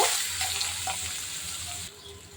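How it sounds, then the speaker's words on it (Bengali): Steady crackling sizzle of chopped onions frying in hot oil, a continuous hiss that drops off slightly near the end, with no voices. "পেঁয়াজটা হালকা বাদামি কালার করে ভেজে নিব"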